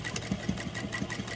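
A sewing machine stitching a tote bag, its motor whirring in a quick, even pulsing rhythm, close and fairly quiet, with no voices.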